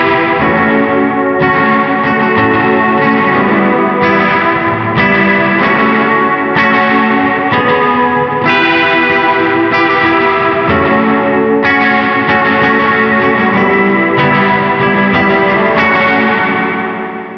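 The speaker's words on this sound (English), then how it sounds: "So we got a chorus, a kind of a slap back style delay there going." Electric guitar played through chorus, a short slapback delay and a big washy reverb, strummed chords ringing continuously and loud with repeating attacks smeared into a dense wash, no voices.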